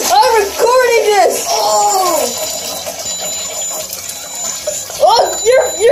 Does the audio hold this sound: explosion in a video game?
no